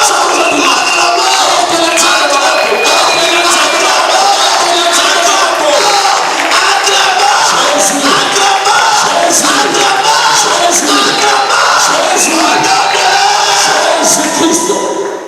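A church congregation at a Sunday service cheers and acclaims loudly, a dense crowd roar with shouts and whoops that carries on throughout, while a voice calls out over it.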